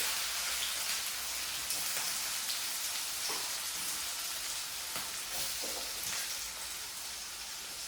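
Sliced onions sizzle in hot oil in a pan, a steady, close, hissing crackle with scattered pops and faint stirring clicks that runs continuously without talk.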